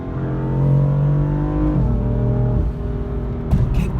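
A BMW M4 engine hums loudly inside the cabin, its pitch jumping twice as gears drop, then revving up again.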